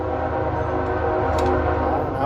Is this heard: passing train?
yes